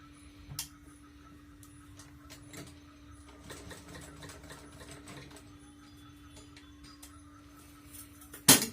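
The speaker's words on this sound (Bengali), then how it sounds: "আমি এইভাবে মেশিনটা ঘুরিয়ে ঘুরিয়ে চাপ দিয়ে দিয়ে সেলাইটা করি" A hand-cranked sewing machine darns a torn sari with a soft, uneven mechanical rattle and whirr that is steadiest in the middle, quiet and close, with a sharp clack at the end.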